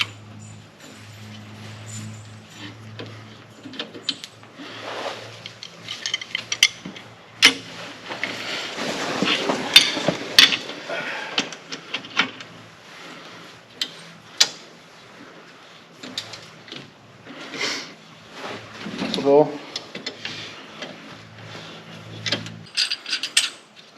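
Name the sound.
tightening center spring bolt on Model A hot rod spring pack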